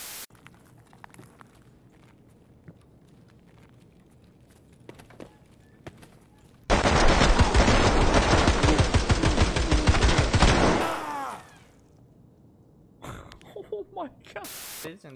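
Suppressed automatic fire in the shooter Escape from Tarkov, a sustained burst of rapid muffled shots lasting about four seconds after quiet footsteps, with a voice speaking afterward and a few scattered shots near the end.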